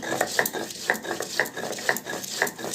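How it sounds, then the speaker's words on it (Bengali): Coriander and cumin being ground into a paste on a stone produce a rhythmic back-and-forth grinding, with regular scraping strokes about every half second, close and moderately loud. "এখন ধনে জিরেটা বাটতে একটু সময় লাগবে।"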